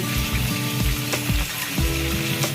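Whole small onions and cubed onions with a pinch of salt tossed in a hot pan, a continuous close sizzle broken by a few soft scrapes and clacks as they are stirred.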